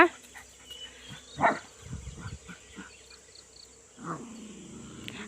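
A dog gives a few sharp barks at other dogs, with pauses between them, fairly close, over a faint steady background hum.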